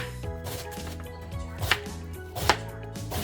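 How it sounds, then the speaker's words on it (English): Cabbage being chopped with a knife on a cutting board, with a few sharp blade strikes near 1.7 and 2.5 seconds standing out over steady background music. "First, I'm gonna start with the cabbage."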